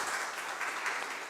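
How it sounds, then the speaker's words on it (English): Short burst of audience applause at an educators' master class, a steady wash of clapping from a crowd, moderately distant and even throughout. "I think it's a big round of applause for her."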